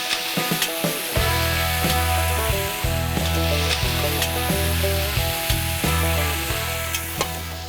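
Beef cubes searing in a pot on a fired-up camp oven stove, a loud continuous sizzle with regular stirring scrapes and a low burner roar beneath.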